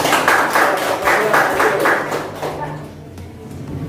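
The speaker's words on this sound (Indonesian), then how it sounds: "Tepuk tangan kelompok 1." Classroom group applause: a burst of rapid hand clapping from many students, fairly close, fading out toward the end with some background chatter.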